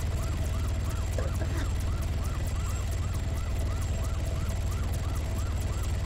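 A wailing emergency vehicle siren in the ARMA 3 game sweeps up and down in quick repeated cycles over a steady engine drone, loud and continuous throughout with no talk.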